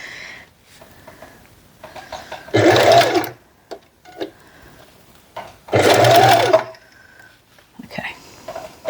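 A small basic home sewing machine backstitching along the seam of a fabric tote bag, with two loud, steady whirring bursts of stitching a few seconds apart and quiet handling and brief talk in between.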